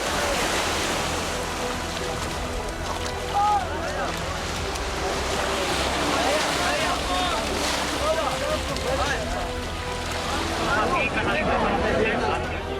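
Sea waves at the Morocco–Spain border near Ceuta, a constant loud wash of surf and wind with scattered shouting voices and chatter from a crowd mixed over the water.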